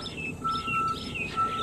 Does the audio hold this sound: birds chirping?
yes